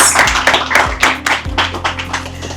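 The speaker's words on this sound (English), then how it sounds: "Clap for him." Uneven clapping from a small audience at a business talk on market growth strategy, a few sharp claps then a thinner patter that trails off, close and fairly loud.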